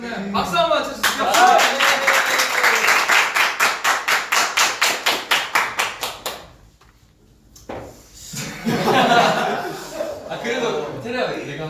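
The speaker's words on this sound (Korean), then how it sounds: "박수 한번 쳐주세요." A small group at a K-pop band's live broadcast claps in a quick even rhythm for several seconds, then stops; laughter and chatter follow after a short pause.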